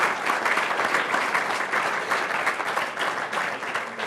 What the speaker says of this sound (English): Let's give him a round of applause for opening the program up.